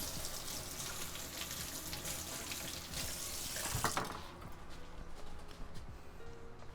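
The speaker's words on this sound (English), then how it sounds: "Rinse the starch off right now, otherwise it'll be cement." Water from a kitchen tap runs steadily into a sink as starch is rinsed off chopped potatoes, a close, continuous splashing hiss with a few clunks partway through before the flow softens.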